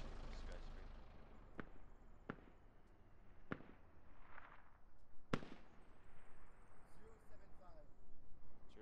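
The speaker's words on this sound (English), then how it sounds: "We are taking fire from multiple directions inside this building." Gunfire in the video game Squad, scattered sharp cracks at irregular intervals inside a building, sounding moderately close over a noisy background, with radio-style voices talking throughout.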